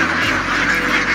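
A flock of Khaki Campbell ducks on a large duck farm holding some 18,000 birds, making a dense, continuous chorus of overlapping quacks that sounds close and loud.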